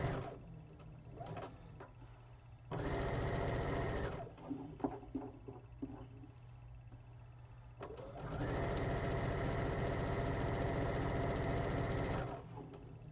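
A sewing machine stitches pieces for a graduation quilt in two sustained runs of steady whirring, the second longer, with quieter handling clicks and a low background hum between them.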